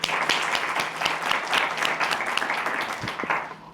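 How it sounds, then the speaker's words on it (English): Steady audience applause for youth orchestra musicians at a district address event, dense clapping sustained at an even level throughout. "let's give another round of applause for the musicians from the youth orchestra"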